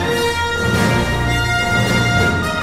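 Orchestral film score from the ending of Star Wars: The Empire Strikes Back, a brief sustained swell of strings and brass playing alone at steady volume.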